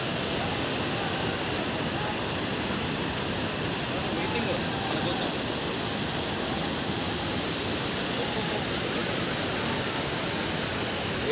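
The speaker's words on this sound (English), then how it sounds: "Ognekal waterfalls." Hogenakkal waterfalls on the Kaveri River at the Karnataka and Tamil Nadu border roar as a dense, steady broadband rush of falling water, loud and unbroken throughout.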